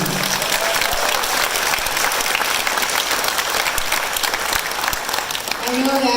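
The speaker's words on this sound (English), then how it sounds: "So let's give yourself and all of us a big round of applause for being here." A training-session audience breaks into a big round of applause, dense and sustained clapping filling the room at steady loudness, with faint voices briefly audible at the edges.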